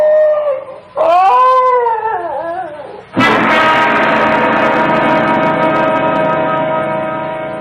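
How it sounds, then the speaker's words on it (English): A dog whimpers in rising, wavering cries, then breaks into one loud, sustained howl that holds steady to the end, close and alone. "Why, it's the Higley dog"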